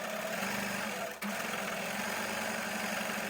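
A domestic sewing machine stitches green zigzag free-motion embroidery on stenciled fabric, a fast steady mechanical whirr with rapid needle ticking, pausing briefly for a moment before resuming at a constant pace.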